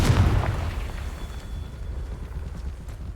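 A Confringo blasting spell explosion in Hogwarts Legacy, a single loud boom at the start fading into a low rumbling tail.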